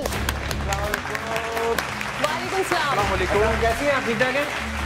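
A studio audience claps to welcome the hosts of a talk show, steady moderate applause heard up close with a tonal musical backing running underneath.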